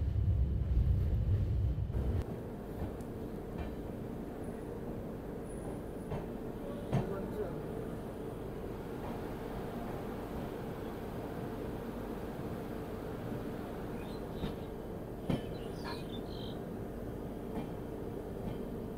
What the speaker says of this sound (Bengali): আমাদের ট্রেন এখন এসছে ব্যান্ডেলে।